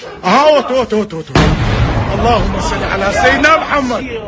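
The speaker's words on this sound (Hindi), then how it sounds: "एक धमाका नहीं, ताबड़तोड़ कई धमाके की आवाज सुनाई देती है" A heavy blast from Iranian missiles striking US bases in Irbil, Iraq, erupts after a few seconds of excited voices, followed by sustained rumbling and crackling from multiple explosions while people keep shouting over it.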